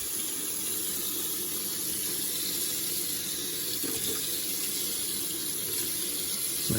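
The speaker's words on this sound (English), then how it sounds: "I can let a little bit of this water out." Water streams steadily from a tap, a constant hissing flow that stays even and uninterrupted throughout.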